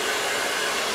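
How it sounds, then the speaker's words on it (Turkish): A hair blow dryer runs while hair is styled with a brush, giving a steady, close airy whoosh that holds at even loudness through the brief moment. "fırçayla beraber o yana fönle beraber şekillendireceğiz"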